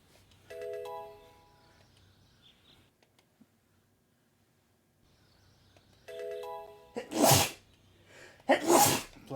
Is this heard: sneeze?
yes